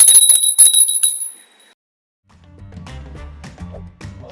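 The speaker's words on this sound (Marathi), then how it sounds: "भागाचा शेवट करण्यापूर्वी तिसरी घंटा परत एकदा तुम्ही द्या." A silver hand bell is rung as the third bell at a theatre show marking a 12,500th performance, giving a bright, loud, rapid ringing for about a second and a half, then silence before voices and sound pick up.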